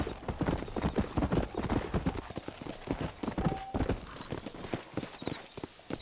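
Rhythmic clip-clop of horse hooves in the video game Red Dead Redemption, steady and fairly close, with a brief whinny-like tone partway through.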